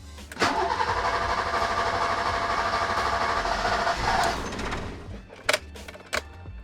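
A BMW E30 engine cranks and turns over after a new fuel pump install, with a long churning starter whir that does not catch, then stops, followed by a few sharp clicks and knocks.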